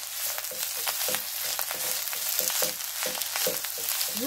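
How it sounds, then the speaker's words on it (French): Tomato rice being turned in a pan with two spoons, a steady low sizzle with quick repeated scraping strokes, close and continuous, no voices. "On remue, je prends une deuxième cuillère pour m'aider"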